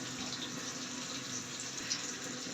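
Water trickles steadily as a small splash is added to a plain vegetarian Bengali dish in a home kitchen, a continuous soft pouring with no talking.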